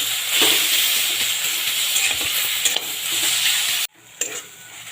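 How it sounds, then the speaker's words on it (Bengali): Tomatoes with a little salt fry loudly in hot oil, a close, continuous sizzle and hiss with stirring scrapes, broken by a short pause before the frying noise resumes. "তেলটা ভালোভাবে গরম হয়ে গেছে এবারে টমেটো সাথে আমি একটু ভেজে নেব"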